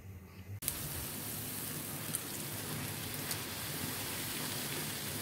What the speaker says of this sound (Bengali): আজকে বৃষ্টি হচ্ছে, ঝুম বৃষ্টি বাইরে